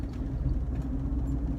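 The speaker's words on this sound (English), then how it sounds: "So anyway, I'm driving this car right now and it's doing so great." A Toyota RAV4 with transmission clutch trouble drives along, a steady low engine and road rumble heard from inside the car, even and unbroken, with no one talking.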